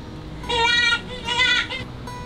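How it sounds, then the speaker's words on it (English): Jackrabbit call played at a children's museum exhibit: two shrill, bleating squeals, each about half a second long, fairly loud over soft room noise. "Yeah, that's the jackrabbit."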